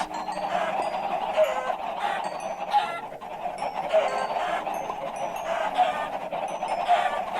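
Dense chorus of video game chickens clucking continuously, a steady busy flock sound with overlapping calls and no voices.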